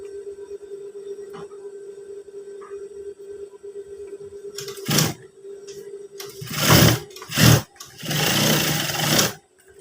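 A sewing machine stitches a trouser waistband in several loud bursts of rapid mechanical whirring, separated by pauses over a low electrical hum.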